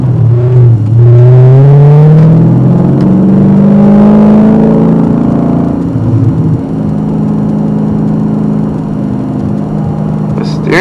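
Dodge Challenger SRT8 with a manual transmission accelerating hard, its engine note climbing in pitch through a steady loud rev, then settling to a lower drone with some rev hang.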